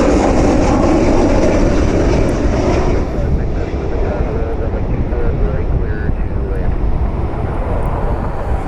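A Spirit Airlines jet arriving from Orlando at Cleveland Hopkins produces a loud, broad roar that is strongest at the start and then eases slightly while staying continuous to the end.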